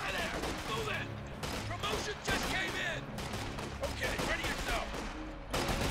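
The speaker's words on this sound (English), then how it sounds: "You can see the MGs just rip enemy infantry apart" Machine guns in the Company of Heroes 2 video game, firing sustained rattling bursts with scattered battlefield gunshots, dense and continuous throughout.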